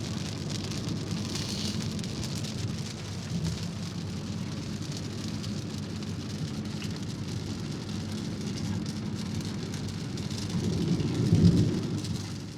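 Heavy rain pours steadily during a highway road trip, with low rolling thunder rumbling beneath it and swelling louder near the end.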